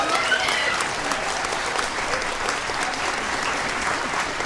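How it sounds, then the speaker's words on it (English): A large audience applauds the mothers present at a Mother's Day community arts gala, with dense, sustained clapping that holds steady and loud throughout. "Let's give a round of applause to all the moms in our audience"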